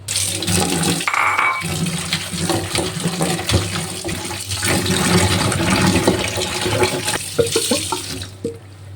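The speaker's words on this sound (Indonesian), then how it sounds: "Lanjut kita juga mau cuci sayur-sayuran. Mula-mula sayur daun parenya dulu." Running water pours steadily from a tap while bitter melon leaves are rinsed in a kitchen sink, with small splashes and handling noises throughout and no talking.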